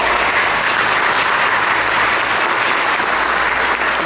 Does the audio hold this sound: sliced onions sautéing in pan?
no